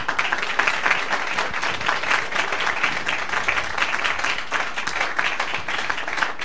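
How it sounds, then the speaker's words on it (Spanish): Audience applause for panelists closing a round-table colloquium on religious tolerance, a sustained dense clapping throughout with little talk. "le damos un agradecimiento, un aplauso a los panelistas."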